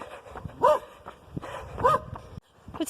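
A single dog gives a few soft, short barks and yips indoors, two distinct bursts spaced about a second apart with quiet gaps between, fairly faint and with no talking.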